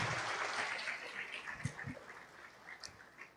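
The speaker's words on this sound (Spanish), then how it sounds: "Todos denle un fuerte aplauso al Señor." Congregation applause at a church service on baptism, a dense spread of clapping from a crowd indoors, steady and moderately loud for a few seconds before tapering off.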